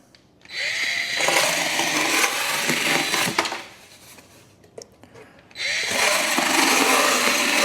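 A Fanttik electric cutter slices through carpet in two loud, sustained whirring bursts with a brief quieter pause between them, close and harsh.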